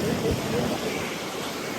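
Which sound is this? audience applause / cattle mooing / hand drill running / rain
rain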